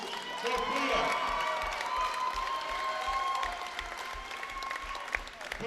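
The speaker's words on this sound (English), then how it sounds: "Let's give a round of applause" An amateur fight event crowd applauds and cheers for the winner, a sustained clapping roar in the venue with scattered whoops, while a voice talks over it.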